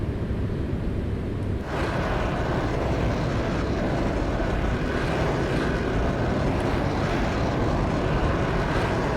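A Eurofighter Typhoon jet engine in Microsoft Flight Simulator roars as a loud, steady, broadband rush that surges slightly after a couple of seconds and holds alone without talk.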